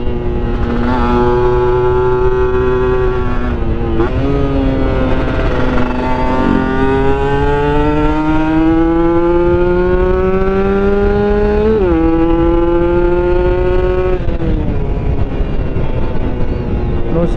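Motorcycle fitted with a PWK 28 carburetor revving hard on a test ride, the engine climbing and dropping through repeated loud acceleration pulls and gear changes, close and continuous.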